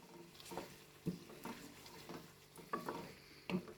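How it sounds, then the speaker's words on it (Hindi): Balti gosht beef curry is stirred in a pan, with several spoon scrapes and clanks in an uneven rhythm over a faint sizzle, quiet and close. "अच्छे से मिक्स कर देंगे"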